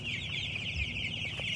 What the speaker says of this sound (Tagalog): At ito naman mga sisiyo ito pagka lalarga na namin.